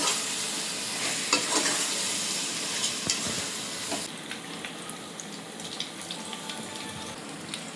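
Chicken 65 fries in a home kitchen pan with a bright, continuous sizzle, broken by scraping stirs that come and go and by a few soft clinks.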